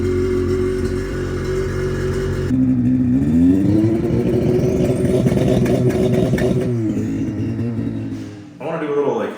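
A Can-Am XRS Comp Turbo side-by-side fitted with a Diamond S muffler idles and revs hard during a 2-step launch check, a loud, close engine drone rising and holding before dropping off near the end.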